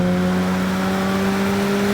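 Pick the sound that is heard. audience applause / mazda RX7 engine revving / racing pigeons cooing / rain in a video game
mazda RX7 engine revving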